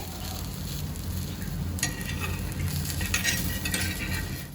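A half-fry egg sizzles steadily on a hot griddle, a constant crackling hiss with a few metal scrapes and clinks of a utensil.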